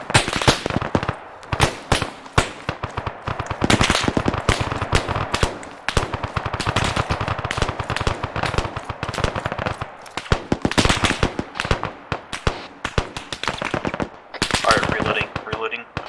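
Sustained machine gun covering fire in the military shooter ARMA 3, dense rapid bursts nearly continuous for the whole stretch, loud and close, with short gaps between volleys.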